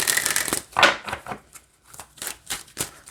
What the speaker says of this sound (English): I do not have a problem with the way that this shuffles at all